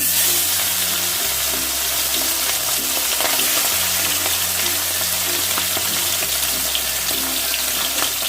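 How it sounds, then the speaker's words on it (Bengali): Tangra fish fry in a pan on a low gas flame, giving a loud, continuous sizzle and crackle with a low steady hum underneath. "এবার আমি মাছগুলোকে ভেজে নেবো"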